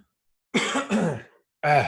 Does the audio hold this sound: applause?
no